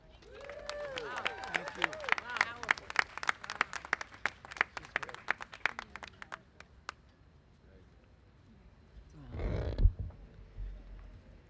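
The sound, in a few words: audience applause after a speech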